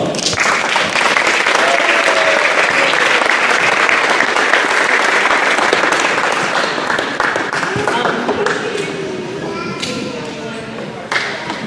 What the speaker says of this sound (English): So hold your applause yet again